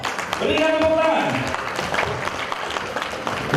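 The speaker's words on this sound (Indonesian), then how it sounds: "Berikan tepuk tangan." An indoor audience at an eco farming and eco feed training session claps steadily to welcome the next speaker, with a short electronic chime sounding over the applause near the start.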